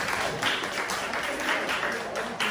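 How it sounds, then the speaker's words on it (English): Applause from a classroom audience at a student presentation about a favourite game, steady dense clapping that holds at even loudness for the whole stretch, with no voices over it. "Give him a big applause."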